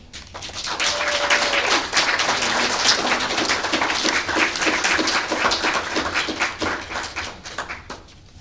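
Sustained audience applause at a high school graduation celebration, many hands clapping densely and steadily throughout with faint voices and whoops mixed in, fading slightly toward the end.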